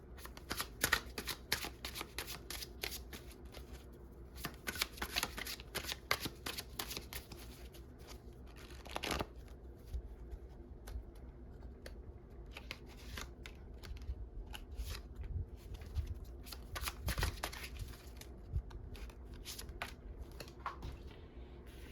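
Tarot cards are shuffled by hand before three extra cards are drawn. Close, crisp riffling and flicking runs steadily for about twenty seconds with brief pauses, and there is no speech.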